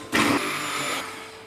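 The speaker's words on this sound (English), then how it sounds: "give it a little blend with this immersion blender" Immersion blender whirring through apples for chia jam, one short burst of about a second that starts abruptly, holds steady and cuts off, close and alone with no talk.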